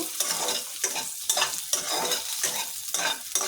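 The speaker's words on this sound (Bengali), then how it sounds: "আমার আলুটা প্রায় ভাজা শেষ হয়ে যাচ্ছে।" Potatoes frying in a pan sizzle steadily and close up, with a bright crackling hiss broken by regular stirring scrapes roughly every half second, and no voices.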